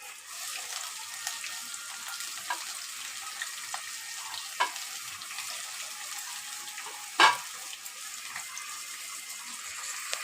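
Onions browning in oil in a pan for a home-style chicken curry, with mint added, give a steady close hiss of frying over about ten seconds, with a couple of short clatters from the utensils and no talking.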